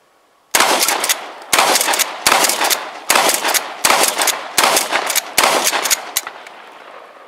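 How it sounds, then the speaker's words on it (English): A Mossberg Maverick 88 pump-action shotgun fires a rapid string of loud, close blasts, about seven sharp reports at a steady rhythm, each followed by a brief ring-off, with no talk. "let me go ahead and finish running the last two rounds in here"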